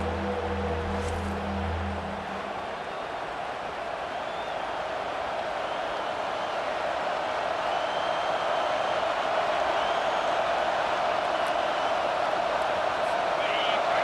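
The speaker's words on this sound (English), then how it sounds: "The roar of the crowd trying to fuel this defense" Stadium crowd at a college football game in EA Sports College Football 25 keeps up a broad, steady roar for the whole stretch, loud and distant-sounding, with commentators talking at times over it.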